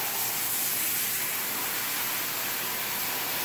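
Spray hose washing rocks in a bathtub, a constant broadband hiss of water spray that runs unbroken and fairly close.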